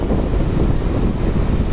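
Wind buffets the microphone on a beach, a loud constant roar of rumbling gusts with surf faintly mixed in, no speech.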